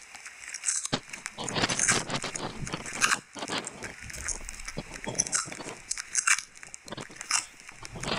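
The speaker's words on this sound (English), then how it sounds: "stop chewing" Someone chews loudly and close to the microphone, a continuous stream of wet crunching, biting and smacking sounds with irregular rhythm over a faint background hum.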